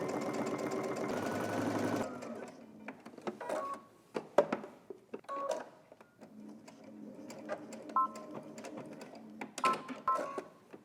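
A sewing machine topstitches a quarter inch from the fold of a pocket, whirring steadily for about two seconds before stopping, followed by scattered clicks and small handling sounds.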